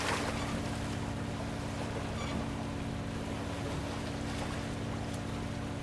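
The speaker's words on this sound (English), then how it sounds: "I do enjoy the sounds of the water" Water laps against a boat in a detective video game, a soft steady wash with a low engine-like hum beneath, calm and continuous with no voices.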